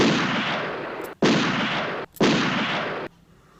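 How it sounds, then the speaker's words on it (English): Three bursts of a small Bulgari fragrance sample spray bottle, each a broad hissing whoosh lasting about a second, loud and close, with brief gaps between. "Three sprays there because these small ones don't pump out a lot."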